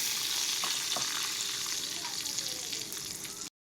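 Mustard seeds and turmeric sizzling in hot oil for a traditional Malvani mango raita, a steady close hiss with faint crackles that cuts off abruptly at the end.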